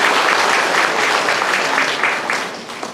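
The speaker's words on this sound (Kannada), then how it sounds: "ಒಂದು ದೊಡ್ಡ ಚಪ್ಪಾಳೆ ಇರಬೇಕು." Sustained audience applause at a Kamadhenu Trust felicitation ceremony, dense steady clapping from a large crowd, loud and continuous throughout, tapering slightly near the end.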